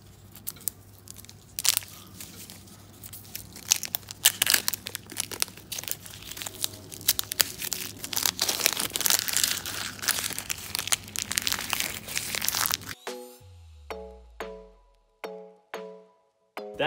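Plastic wrappers crinkle and crackle in dense, irregular bursts as Minecraft mining kits are unwrapped up close, followed by a few sparse clicks and soft tones near the end.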